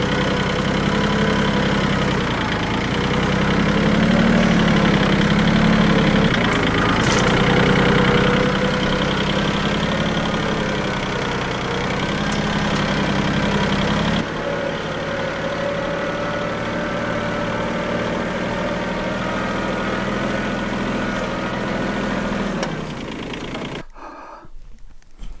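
A farm vehicle's engine drones steadily and loudly while driving across a field with grass and hazelnut bushes, its low rumble shifting in pitch partway through before cutting off near the end.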